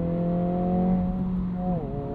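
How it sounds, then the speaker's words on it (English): A 2022 Honda Civic Si in sport mode plays an enhanced engine sound through its cabin speakers, a steady harmonic hum holding under acceleration and then dipping in pitch as the car shifts. "it sends all of the Fast and Furious engine noises through the speakers"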